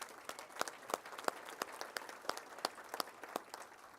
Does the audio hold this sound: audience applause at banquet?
yes